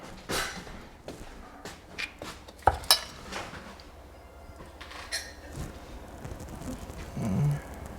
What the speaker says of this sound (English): Now I'm gonna add some ricotta cheese